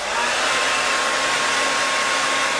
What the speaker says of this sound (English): I'm gonna basically blow dry this section.